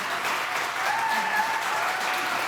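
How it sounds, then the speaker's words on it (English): An audience claps in applause after a talk on patient self-advocacy after a cancer diagnosis, a steady, even wash of clapping lasting a few seconds. "let's give a round of applause to these guys"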